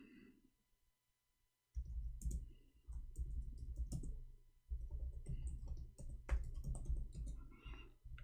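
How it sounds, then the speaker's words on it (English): Quick, irregular key clicks on a computer keyboard, close and distinct, start after a quiet opening and continue in bursts of steady typing with brief pauses. "I'm typing in Arabic all this time"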